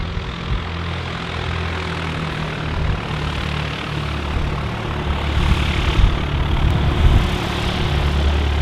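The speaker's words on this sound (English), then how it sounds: "An aircraft." A propeller aircraft passing near Manchester City Airport under overcast skies, a steady droning engine hum with low rumble that grows slightly louder toward the end, heard alone without talk.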